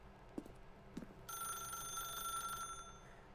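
An old-style telephone bell rings steadily for about a second and a half inside the video game The Stanley Parable, fairly quiet after a couple of soft thumps.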